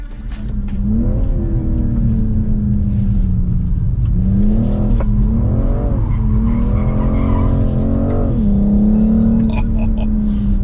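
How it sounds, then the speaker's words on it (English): A BMW M440i G22 with the B58 petrol engine revs repeatedly, its pitch climbing and falling in several loud surges over a continuous roar, with a faint squeal of tires. "the B58 is the most fun and most high-quality petrol engine you can buy today"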